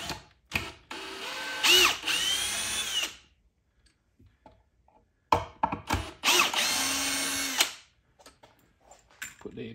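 A cordless power drill drives 2-inch screws for a DIY hose reel, two loud close whirring runs of about two seconds each with a short ratcheting stop, separated by a quiet pause.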